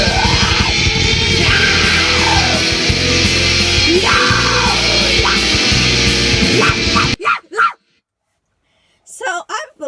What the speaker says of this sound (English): you're just going to scream your heart out